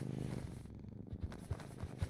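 Soft purring from cats in the Bookshop Simulator video game, a low rhythmic rumble with faint pulses, quiet and close.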